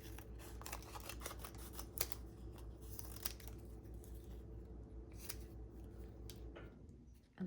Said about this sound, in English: I'm gonna have to cut this again.